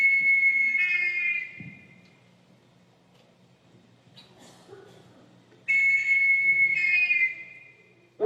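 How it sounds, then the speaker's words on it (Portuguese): Whistle blowing in the mountains of Pico dos Marins, Serra da Mantiqueira: two loud sustained shrill blasts separated by a quiet gap with faint background rustle, the second blast starting abruptly and ringing out. "O eco deste apito foi ouvido muitas vezes em toda a área do Pico dos Marins, na Serra da Mantiqueira"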